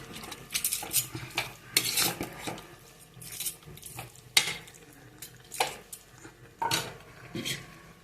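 A spoon scraping and clanking around a pot while chicken thokku is stirred before the lid goes on, irregular bursts of metallic scrapes and knocks over a faint sizzle.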